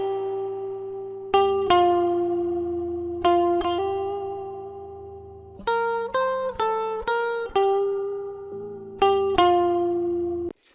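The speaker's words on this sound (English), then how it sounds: "This is some guitar I recorded a while ago." Clean electric guitar recorded direct input with a little reverb plays a slow phrase of plucked single notes and quick double stops, each note ringing and decaying clearly and fairly loud, with no talking.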